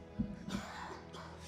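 A commentator coughs twice straight into his microphone during a StarCraft match broadcast, close and muffled, followed by a faint breathy trail.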